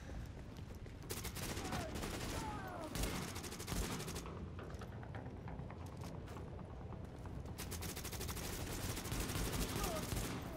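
Gunfire fills a Tom Clancy's The Division co-op match, with bursts of automatic shots and rapid cracks crowding a busy, loud mix of game sound.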